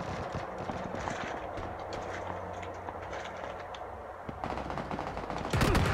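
Rapid gunfire rattles through a PUBG match, dense bursts of shots from several weapons layered over constant battle noise, growing louder and sharper near the end.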